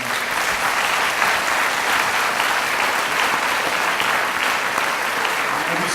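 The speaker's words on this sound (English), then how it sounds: "a round of applause for our families" A large audience at a Navy Reserve chief petty officer pinning ceremony applauds loudly and steadily, with a dense, continuous wash of clapping that fills the whole stretch.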